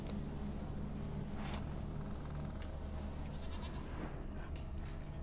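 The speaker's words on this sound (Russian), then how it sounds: "Нет, козу слышу" A goat bleats in The Witcher 3 video game, a faint cry somewhere off in the distance, buried in dense, loud outdoor game ambience.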